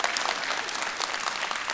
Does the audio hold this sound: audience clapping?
yes